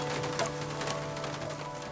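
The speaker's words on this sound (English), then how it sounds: "I just love the sound of rain on the surface of the tin." Rain patters steadily on a tin surface, a dense, even hiss of drops that carries on without a break and has no voices over it.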